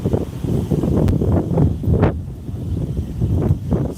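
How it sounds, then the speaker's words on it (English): Gusty wind buffets the microphone outdoors on a city walk toward Tokyo Tower, a steady low rumble swelling and easing in irregular surges for the whole stretch with no voices. "Wind picking up again."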